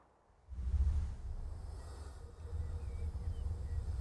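A freight train loaded with oil rumbles along steadily in Transport Fever 2, a low continuous rolling drone with faint mechanical clatter, fairly quiet and close.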